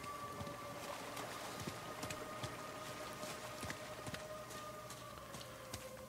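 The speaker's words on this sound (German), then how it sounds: "Es regnet." Steady rain falls in the video game Uncharted: The Lost Legacy, a continuous dense patter with scattered louder drips and taps throughout, over a low ambient drone, no voices.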